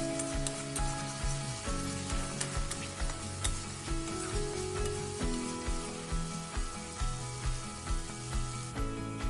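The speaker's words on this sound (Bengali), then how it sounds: "দিয়ে মশলাটা ভালো মতো ভেজে নিব" Spice paste with dried red chilli powder sizzling in hot oil in a pan, a continuous close crackle with repeated spatula strokes and scrapes throughout, no voices.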